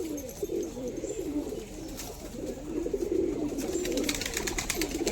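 A Giribaz flying pigeon coos in a near-continuous, throaty warble, close by and steady, with faint background rustle.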